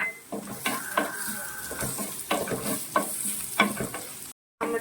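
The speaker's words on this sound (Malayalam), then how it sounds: "ഇനി നമുക്കിതിലേക്ക് നമ്മുടെ മുളകും കൂടി ചേർത്ത് നന്നായിട്ട് വഴറ്റിയെടുക്കാം" Chillies are sautéed in a pan for a North Indian dal curry, a close sizzle broken by repeated scraping and clinking of a spoon as they are stirred.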